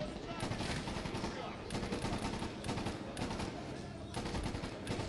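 Bursts of automatic gunfire from enemies in Medal of Honor Warfighter's Shoreleave campaign rattle continuously, several sustained volleys overlapping in a dense, loud battle mix.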